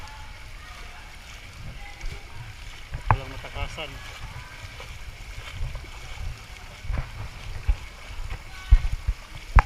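Deep floodwater in Manila streets near Pedro Gil, PGH, UN and Kalaw sloshes and splashes as someone wades through it. Low, irregular swishes carry under nearby talking, with occasional sharper splashes toward the end.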